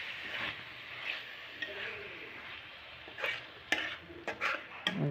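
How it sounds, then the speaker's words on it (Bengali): Ingredients for a pabda fish curry stirred in a pan, a low sizzle under scattered spoon scrapes and clinks against the pan, close and moderately quiet, with brief light talking. "এখন ভালো করে মিশিয়ে নিচ্ছি।"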